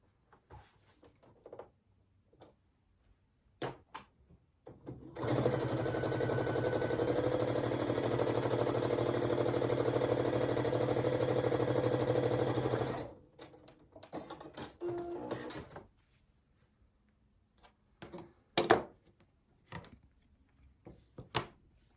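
A sewing machine runs steadily for about eight seconds, restitching a quilt seam, then stops; quieter handling clicks and rustles of fabric come before and after.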